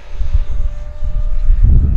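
A Marlin 64mm electric ducted fan model jet flying aerobatics, a steady loud whirring engine tone that swells near the end as it passes close, with no voices.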